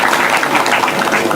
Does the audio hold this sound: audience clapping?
yes